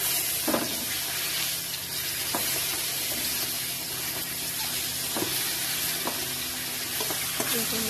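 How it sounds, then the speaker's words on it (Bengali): Fish frying in hot oil in a home kitchen, a dense continuous sizzle and hiss held close and loud throughout, with a few sharp clinks and pops scattered through it and no voice. "এখন মাছটা ভাজছি।"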